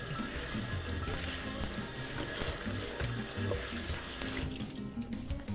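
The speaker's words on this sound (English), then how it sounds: "Give them a nice rinse under the sink" Fresh green beans get rinsed under a running kitchen sink tap, water streaming steadily and splashing close by for several seconds, with no talking.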